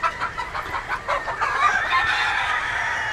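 Free-ranging Super Black Ninja chickens on a Philippine farm cluck busily while a rooster crows through the middle, the calls close and lively over a faint outdoor background.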